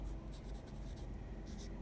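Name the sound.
writing numbers during a maths lesson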